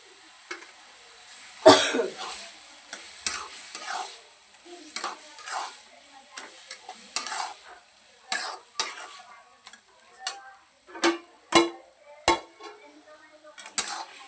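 A spoon stirs ridge gourd chutney in a pan, giving irregular scrapes and clanks against the metal over a faint sizzle, fairly close and with no talking.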